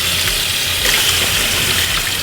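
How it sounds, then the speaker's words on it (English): Soaked rice noodles drained in a kitchen for chicken pho, with room-temperature water gushing steadily and close up, like a tap running or liquid pouring into a sink, unbroken throughout. "I'm going to drain the noodles"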